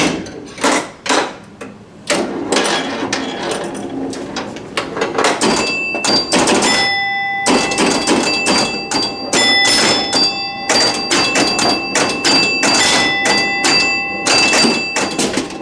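A 1963 Williams Skill Pool pinball machine in play, with rapid clacks, thumps and bumper hits plus ringing bell chimes, all loud and close in irregular bursts and no talking.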